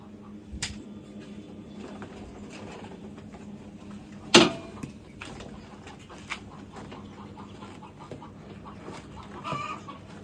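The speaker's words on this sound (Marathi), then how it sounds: "कोंबडी ओरडतात" Chickens cluck and call at a distance amid outdoor background noise, with a sharp sudden crack partway through; no talking.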